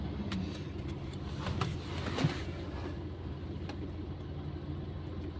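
Low, steady engine rumble of a truck in a queue at a trucking depot, faint and at a distance with a constant drone, a small bump near the middle and no voices.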